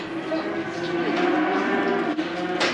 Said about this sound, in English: Get on, black cow.